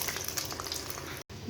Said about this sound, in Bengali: এবার একইভাবে সবগুলো ভেজে নিতে হবে।